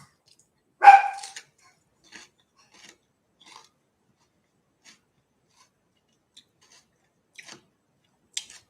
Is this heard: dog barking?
yes